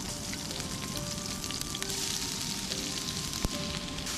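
Chopped green chillies frying in hot oil for kuzhi paniyaram, producing a continuous loud sizzle and crackle with a single sharp tap near the end and no speech.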